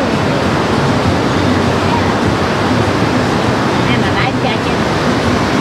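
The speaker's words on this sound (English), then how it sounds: "Them is some good waves." Ocean waves break on a beach on Koh Chang island, a loud continuous roar of surf and wash that fills the whole span, with wind noise mixed in.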